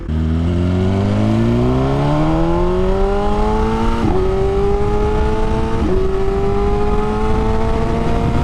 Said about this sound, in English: Gotta love how this bike gets going.